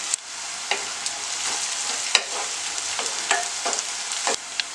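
Green chillies and onions fry in a pan while being stirred, a close, steady sizzle broken by repeated scraping strokes of the spoon against the pan.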